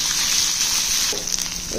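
Onions sizzle in hot tempering oil in a pan, a close, steady crackling fry with a few brief stirring sounds near the end.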